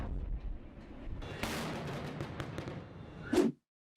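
Enemy artillery shells burst during a village evacuation near Irpin, giving a run of sharp, mid-distance blasts and cracks, then one loud close impact before sudden silence.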